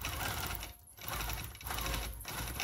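A longarm quilting machine stitches flower petals through two layers of batting, blend and wool, making a close continuous rapid needle hum with brief dips as the motion changes.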